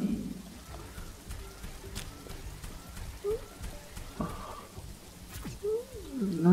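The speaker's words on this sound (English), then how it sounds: "The rain is over." Rain falling in the video game The Riftbreaker, a soft steady hiss of drops under the game's ambience, with a few brief tonal chirps and clicks from the game scattered through and no speech.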